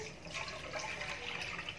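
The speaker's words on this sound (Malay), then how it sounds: "Okey, mula-mula sekali kita masukkan lebih kurang 1 liter air." About one liter of water poured into a pot for a banana and palm sugar dessert, a steady rushing splash lasting a couple of seconds, close and continuous with no talk.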